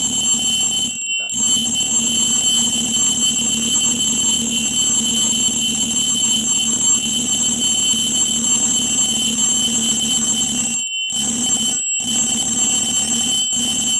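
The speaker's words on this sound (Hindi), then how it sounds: "इनका जो बनाया हुआ इंस्ट्रूमेंट है यानी कि अलार्म घड़ी है, इसकी घंटी बजते हुए देखेंगे" A children's homemade alarm clock bell rings loud and continuous for several seconds, pausing briefly near the start and again near the end, with no talking over it.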